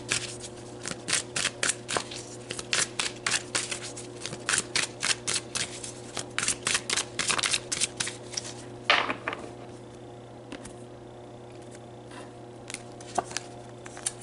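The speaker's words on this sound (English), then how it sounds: "So let's pull some more cards." Tarot cards are shuffled in quick, crisp bursts of riffling snaps, close and clear, followed by quieter single card pulls and slides with a faint background hum.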